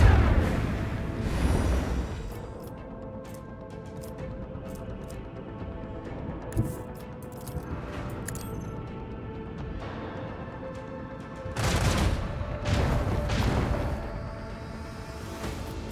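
Starship weapons firing in Warhammer 40,000: Rogue Trader: heavy booming salvos at the start and again near the end, with scattered sharp impacts and a sustained rumbling drone between them.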